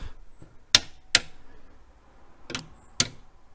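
A hammer tapping a loose bracket on a Mini Cooper, four sharp metallic taps in two pairs, close and distinct against a quiet background.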